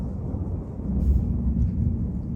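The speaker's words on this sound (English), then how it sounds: "Ah, it's huge thunder." Thunder rumbles low and deep, a broad, rolling swell that grows and lingers for a couple of seconds, fairly distant and muffled, with no other sounds over it.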